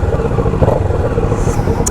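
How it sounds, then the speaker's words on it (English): A Kawasaki Ninja 650 parallel-twin motorcycle engine loud and close, running with a rough, lumpy idle throb after starting up. "So let's give her a quick startup. A little dink dink dink or parallel twin."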